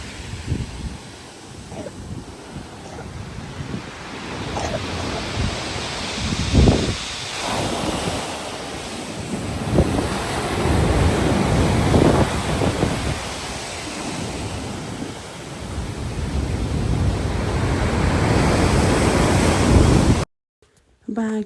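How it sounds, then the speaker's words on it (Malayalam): Strong gusting wind buffets the microphone while rough sea waves crash and surge at Hastings pier on a cold day, a loud continuous roar with rising and falling swells and no talk. "ബാക്ക്ഗ്രൗണ്ടിൽ ഫുള്ള് കാറ്റിൻ്റെയും തിരമാലയുടെയൊക്കെ സൗണ്ടായിരിക്കും"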